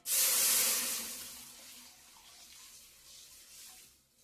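Water is poured into a pan of roasted moong dal, a loud close rushing splash at first that settles into a steadier hiss and bubbling as it mixes with the hot lentils, with no talking.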